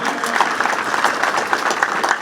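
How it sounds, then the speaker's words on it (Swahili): Crowd applause at a rangers passing-out parade after a silent drill display, a dense burst of clapping held at a steady level from start to end. "Nipewe makofi kwa gwaride hili la kimya kimya"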